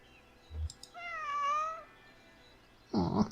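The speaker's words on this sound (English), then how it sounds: "Aw, sad meow." A cat in the video game Kentucky Route Zero lets out a single drawn-out, sad meow that wavers and falls in pitch. A soft thump comes just before it, and a burst of rustling noise follows afterward.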